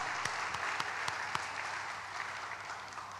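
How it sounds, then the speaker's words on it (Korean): A church congregation applauds during a worship service, a dense burst of hand claps that starts strong and gradually thins out, heard alone without talk. "이럴 땐 박수 치는 거예요."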